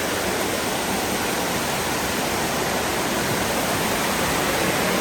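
Small waterfall slide cascading into Cane Creek below a footbridge over Pounder Branch in Daniel Boone National Forest, a steady broadband rush of water that stays loud and unbroken throughout, with no voices.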